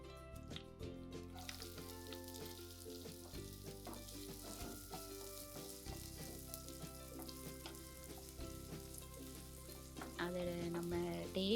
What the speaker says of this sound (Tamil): அதை போட்டு நல்லா வதக்கணும்.